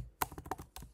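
Computer keyboard keys typed in a few quick bursts while writing text into an email, close and clear, with short pauses between clusters of clicks.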